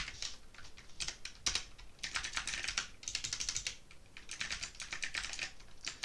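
Typing on a computer keyboard while setting up Arduino code, with quiet, quick bursts of key clicks broken by short pauses.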